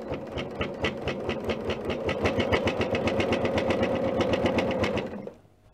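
A sewing machine stitches down quilted fabric in a fast, even run of mechanical thumps with a steady motor hum, then stops abruptly near the end.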